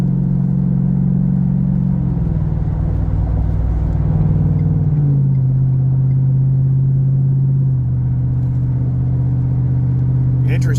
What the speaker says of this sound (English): You got a guy hauling butt here in the Ram, racing.